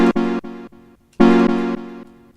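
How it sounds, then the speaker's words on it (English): Synth or instrument notes run through a delay effect in Ableton Live, two loud bursts each trailing off into quieter repeating echoes, the second phrase fading out over about a second. "then you got delay. Sounds like this."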